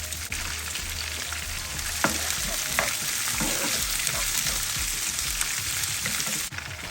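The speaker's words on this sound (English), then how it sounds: "Okay, so I have some oil in the pan. I'm going to add some onions." Onions frying in oil in a pan, a steady close sizzle with a few sharp pops and some stirring scrapes, running throughout with no talking.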